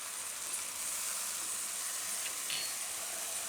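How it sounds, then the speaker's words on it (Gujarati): Turmeric and coriander-cumin powder hit hot oil in a pan, giving a steady, close sizzling hiss that stays fairly constant throughout, with no voices. "હવે આમાં મસાલા બધા નાખી દઉં. હળદર અને ધાણા જીરું"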